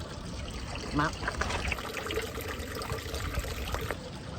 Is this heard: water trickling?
yes